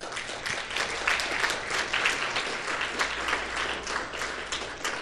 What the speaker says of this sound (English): if we could have a round of applause for you too